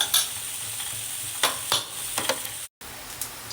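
Mustard seeds, cumin and urad dal frying in a teaspoon of oil, a close, steady sizzle with scattered pops and stirring scrapes, briefly cutting out near the end.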